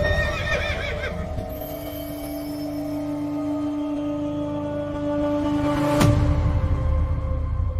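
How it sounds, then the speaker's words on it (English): A black horse rears and neighs in a forest, its whinny ringing with harmonic tones over a low rumble, followed by a sudden loud burst and a heavier roar. "his black horse reared violently beside him"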